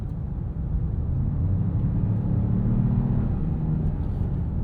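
The turbocharged four-cylinder Hurricane engine of a 2026 Jeep Grand Cherokee pulls under acceleration, a fairly quiet, steady low drone heard from inside the cabin with no talking.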